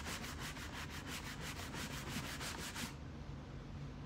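Steady back-and-forth scrubbing of nearly sixty years of grime from old wooden buffet furniture, a rhythmic, close rubbing sound with regular strokes that stops near the end, with no voice.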